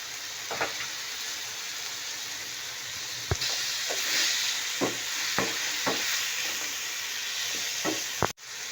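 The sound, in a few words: onion frying with spices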